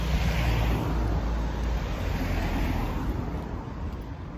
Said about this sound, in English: A couple of vans as well now.